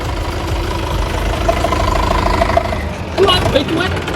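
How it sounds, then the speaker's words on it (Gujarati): A tractor engine starts up and settles into a rough, low, rumbling idle with a knocking beat, while people talk nearby over it. "આ ટ્રેક્ટર ચાલુ કર્યું"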